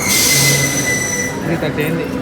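The Krishna Express squeals on the rails as it arrives at a station, with a high whine and screech, loud and close, over rumbling wheels, with faint voices in the background.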